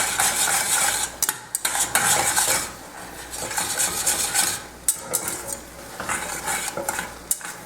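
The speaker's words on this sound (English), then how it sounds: "we're just going to continuously stir this for 3 minutes" A spoon scrapes and clatters continuously against a pan while coconut macaroon mixture is stirred over heat, with sharp metallic clicks and a soft sizzle throughout and no talking.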